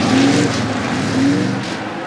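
NASCAR race cars roar at high speed in a loud, sustained engine drone, with a whining pitch that rises and falls as the cars pass. The sound stays steady and close, with no talking.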